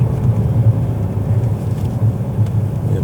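A supercharged Jaguar XJ 5.0 saloon running on LPG gives a steady, loud, dense engine rumble from inside or close by while driving under throttle, with no voices.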